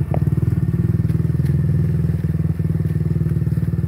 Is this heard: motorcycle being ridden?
yes